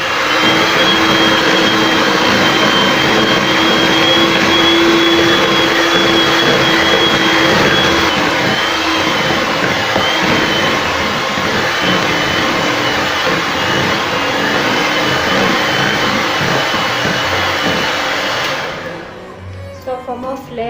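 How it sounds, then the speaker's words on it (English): Electric whisk beating carrot cake batter in a bowl, a loud steady motorized whir held for about eighteen seconds before cutting off near the end. "So we are going to give this a good whisk."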